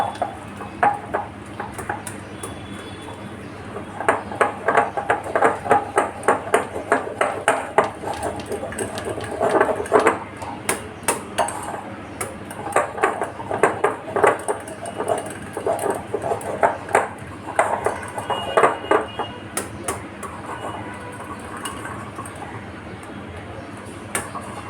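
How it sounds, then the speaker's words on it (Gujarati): Cake batter mixed in a bowl after orange colour and orange zest are added, giving a steady run of quick clinking and scraping strokes of a utensil against the bowl, close and fairly loud, with no one talking. "ઓરેન્જ ઝેસ્ટ નાખી દઈશ. આપણે એને એકદમ જ સરસ મિક્સ કરી દઈશું"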